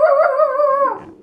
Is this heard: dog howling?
yes